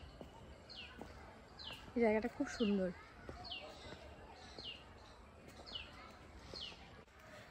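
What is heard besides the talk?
various birds calling in woodland beside a temple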